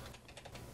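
Quiet, quick keystrokes tap on a computer keyboard as a web address is entered, a short run of soft clicks with no talking.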